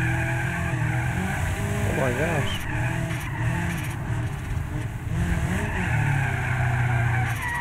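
A police car drifting in BeamNG.drive sends out a sustained tire squeal and skid over a steady engine drone, loud and continuous, while an excited voice talks over it.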